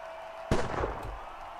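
A single sharp gunshot from the Mr.President video game cracks out loudly, with a short rumbling decay after the blast and no speech.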